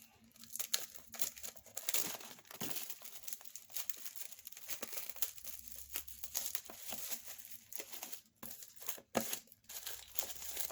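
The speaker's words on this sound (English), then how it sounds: "Compared to the others, it feels like the paper just slid off." Paper wrapping torn and crinkled off the box of a hardbound oracle card deck, close, irregular rustling and ripping with sharp crackles, heard alone.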